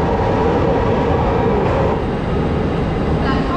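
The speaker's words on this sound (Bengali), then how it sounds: "আর একটা ট্রেন আসতেছে, একটা ট্রেন যাচ্ছে" A Mumbai local train rumbles loudly through the station, a steady heavy roar of wheels and carriages filling the scene as one train arrives and another departs, with crowd noise beneath.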